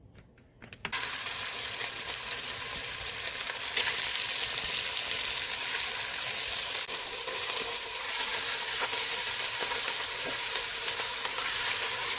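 Olive oil crackles and sizzles loudly in a hot wok, beginning suddenly after a brief quiet moment and then holding a dense, steady hiss throughout.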